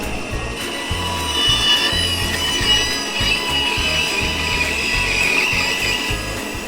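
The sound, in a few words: bandsaw rough cutting circles from scrap fir board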